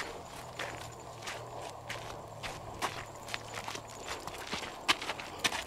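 A horse walks close by on a trail at the edge of the forest, its hooves giving a steady run of light, faint clops over a soft outdoor hiss.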